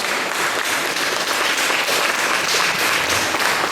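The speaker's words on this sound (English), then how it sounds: "This deserves a very big applause from each and every one of us." Audience applause at a doctors' farewell party for a retiring CMD, a dense, even wash of many hands clapping that holds steady and loud throughout.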